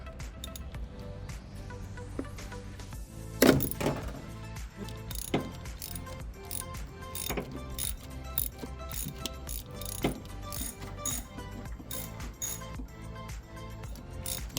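Ratchet working loose a stuck spark plug on a Jeep, repeated close mechanical clicks and clunks at an uneven pace, with one sharp crack early on as it breaks free.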